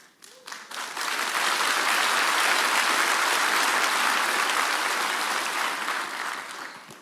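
A fundraiser audience for a recovery house breaks into applause: a few scattered claps, then sustained, full clapping from a large crowd that holds steady and tapers slightly toward the end.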